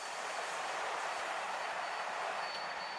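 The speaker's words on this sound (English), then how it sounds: "So there's the train going the opposite way to the main field" A train passes along the route of the 2011 Tour de France stage 19, a steady, faint rushing rumble that holds evenly for a few seconds with no voices.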